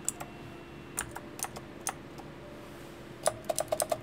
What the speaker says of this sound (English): You can use your arrow keys to move it back and forth.